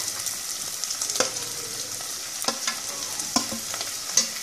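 Onion, tomato and green chilli frying for a restaurant-style egg curry, a soft sizzle broken by occasional sharp spatula clinks as the pan is stirred.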